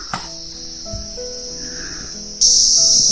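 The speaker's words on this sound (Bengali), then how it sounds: "চারিদিকে শুধু ঝিঝি পোকার আওয়াজ" Crickets chirp in the hills around Tinchuley near Darjeeling, a continuous high, steady trill close by, with a second louder insect joining sharply near the end and a few faint knocks in the background.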